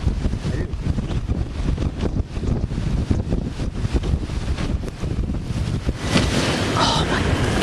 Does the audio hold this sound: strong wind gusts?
yes